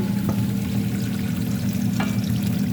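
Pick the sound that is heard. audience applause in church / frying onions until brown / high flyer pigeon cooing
frying onions until brown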